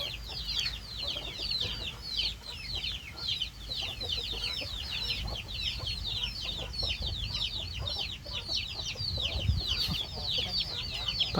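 A flock of chickens clucks constantly at a farmyard that also keeps ducks. The busy, overlapping clucking stays close and steady, and faint voices are heard now and then.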